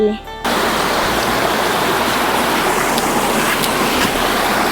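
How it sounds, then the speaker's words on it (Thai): Steady, dense rain hiss fills the whole stretch, a continuous broadband wash close by, after a brief quieter moment at the very start. "ฝนตกแล้วเนาะ"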